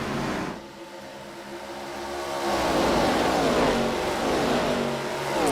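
ARCA championship race cars on track at Charlotte, engines roaring and rising in pitch as they accelerate past, loud and continuous with a brief dip early on.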